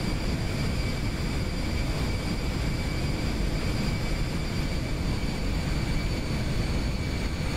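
Aircraft taking off in the X-Plane 11 flight simulator, a steady loud engine roar with a constant broadband rush and faint whining tones, unbroken and alone.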